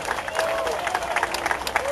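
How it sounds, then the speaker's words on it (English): Audience applause at an outdoor festival awards ceremony, a brief burst of crowd clapping with a voice talking over it and a faint whistle-like tone in the background. "Give them a round of applause."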